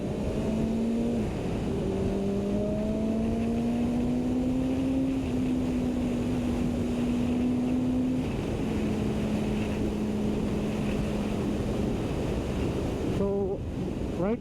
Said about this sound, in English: Right now you can hear the bike that's fully stopped with the aquaponic muffler or can, and it sounds pretty decent.